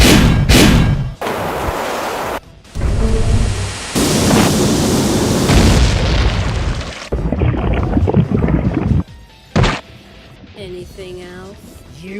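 A rapid string of loud, rumbling blasts and crashes, one heavy boom after another, with brief gaps and a few sharper electronic effects near the end.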